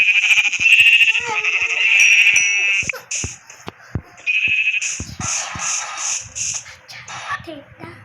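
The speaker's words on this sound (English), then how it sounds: "Oh, I found some sheep." Repeated synthetic sheep bleats from Minecraft, loud and close, overlapping in a string of baas with some clicking sounds and faint background noise.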